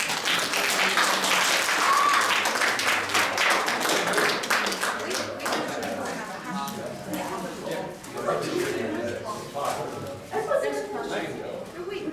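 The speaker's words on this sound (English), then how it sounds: "can we please get one more big round of applause for our five wonderful speakers?" College talk audience gives a big round of applause for five speakers, a loud wash of many hands that swells early, then gradually thins and tapers as murmuring voices and talk come through underneath.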